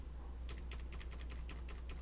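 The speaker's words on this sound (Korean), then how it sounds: "제가 그 키보드의 화살표를 움직여서 한번 움직여 보겠습니다" Arrow keys tapped on a computer keyboard during a beginner's lesson on viewing and scrolling the screen: a quick series of about a dozen light plastic clicks, fairly close, over a low steady hum with no talking.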